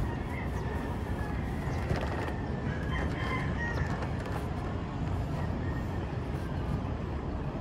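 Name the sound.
chickens clucking and crowing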